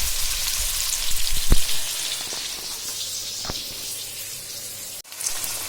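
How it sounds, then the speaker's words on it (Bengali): Sliced onions frying in oil in a pan for biryani, a steady hiss and crackle running throughout with a couple of sharp pops, close and moderately loud, no talk over it. "পেঁয়াজের বেরেস্তা, পেঁয়াজটা কিন্তু ভেজে নিচ্ছি"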